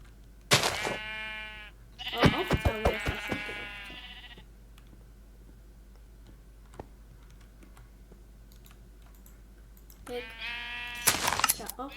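Sheep bleat in Minecraft in short bursts, first one then a cluster with clicking keys, a long quiet stretch with faint hum, then more bleating near the end.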